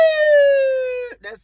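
A voice imitates a siren with a long, sliding wail that drops slightly in pitch, then breaks into brief talk-like sounds.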